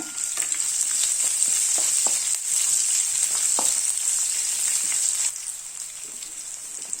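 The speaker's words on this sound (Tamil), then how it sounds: "நம்ம வெங்காயத்தை சேர்த்துக்கலாம். இதை நல்லா வதக்கிக்கோங்க." Onions sauté in hot oil for vegetable pulao, giving a steady close sizzle with light stirring clicks throughout. The sizzle eases a little toward the end.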